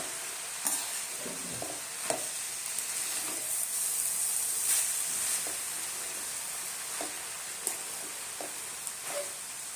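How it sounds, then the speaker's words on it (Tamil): Moringa leaves are sautéed in a pan for a banana flower and moringa leaf stir-fry, making a continuous hissing sizzle with scattered spatula clicks and scrapes. "கீரையெல்லாம் சேர்த்தாச்சு நல்லா வதக்கிடலாம்"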